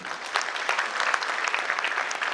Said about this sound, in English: Give yourselves also a big clap.